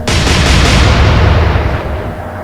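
A salvo from naval guns in the Atlantic Fleet game, Royal Navy against Kriegsmarine: one huge, close blast that rolls on as a heavy, sustained rumble, slowly fading over a couple of seconds.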